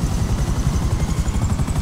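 A helicopter in GTA 5 drones loudly up close, its rotor chopping in a fast, steady low-pitched pulse throughout.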